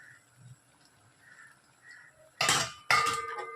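Four beaten eggs poured into a hot pan of cooked ridge gourd in a home kitchen: after a near-silent stretch, two sudden loud bursts of sizzle and clatter arrive close together, each trailing off briefly.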